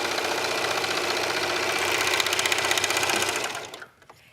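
A serger sewing machine runs steadily as it stitches fabric with a fast, even mechanical whir, loud and close, before slowing and stopping near the end.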